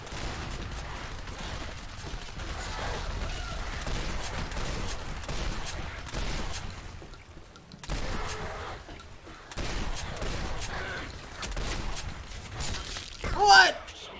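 Gunfire from enemies in the video game Legendary, repeated shots and bursts running through the whole scene beneath someone talking, with a louder crash near the end.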